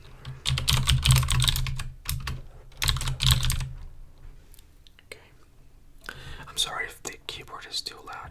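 Code is typed on a computer keyboard in dense close bursts of clicking, under soft whispered speech.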